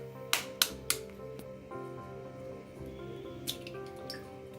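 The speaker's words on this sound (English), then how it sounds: "in goes the egg, and we'll whisk this well" An egg is cracked into a bowl for chili fish batter, with three sharp close taps of shell against the rim followed by quieter soft drips and squishes.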